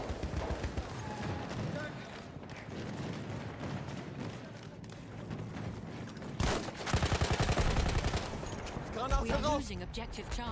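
Battlefield 1 gunfire crackles in rapid bursts amid battle noise, growing louder and denser toward the end, with a voice speaking over it.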